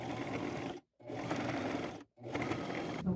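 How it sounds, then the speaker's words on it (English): Sewing machine running a zigzag stitch over the raw edge of lace fabric, three close, steady mechanical bursts separated by short silent pauses. "I'm going to sew it over top of our raw edge, just wherever I think it will hide the stitch and the raw edge, and I will use a zigzag stitch"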